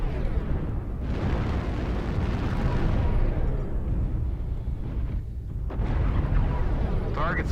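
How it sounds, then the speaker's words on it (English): Artillery strike in MechWarrior Online: a heavy, rumbling wall of explosions rolls on for several seconds, dips briefly, then swells again, loud and dense, with a voice talking over it. "Artillery strike activated."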